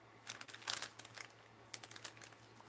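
Fabric scraps are stuffed back into a bag in quick faint bursts of rustling and crinkling, two short clusters of soft crackles separated by a pause.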